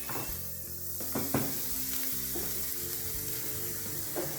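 Bhaji for a cheese chilli dosa sizzles steadily as it fries in a pan at a street-food stall, with a few sharp clatters of stirring over the constant hiss.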